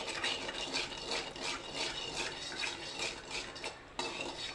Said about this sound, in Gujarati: બરાબર હલાવી લઈશું